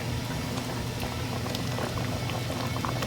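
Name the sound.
raspberry jam at a full rolling boil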